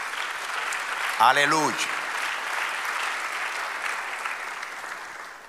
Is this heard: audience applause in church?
yes